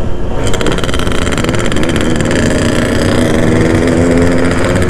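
Yamaha RX King two-stroke motorcycle engine revving loud and close, a continuous raspy buzz with steady throttle blips and a dense crackling exhaust note that runs without pause.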